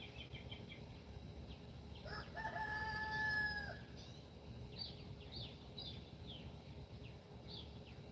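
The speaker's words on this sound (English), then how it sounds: "The rooster's talking to y'all." A rooster crows once at a distance over steady background noise, followed by softer bird chirps.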